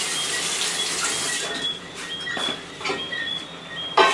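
Tap water runs steadily into a container while preparing Caribbean brown stew chicken in a home kitchen, a continuous close hiss with a few splashy surges and a clink near the end.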